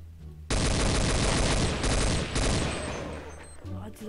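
Rapid automatic gunfire from the game Counter-Strike 1.6 on the Dust 2 map, a loud sustained burst of shots lasting a few seconds with brief gaps, while someone speaks in the background.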